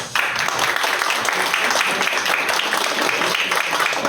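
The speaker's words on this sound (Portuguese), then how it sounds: "Uma salva de palmas." An audience at a cultural academy ceremony honouring a patron breaks into dense, continuous applause, loud and unbroken throughout with a faint murmur of voices beneath.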